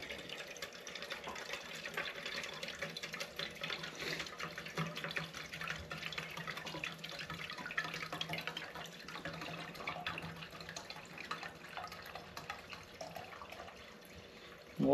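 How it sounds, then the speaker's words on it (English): Old Coleman white gas camping fuel, about fifty years old, pours out of its metal can in a steady, faint trickling stream that gurgles and splashes continuously, close by and without talk. "dump the fuel out of this"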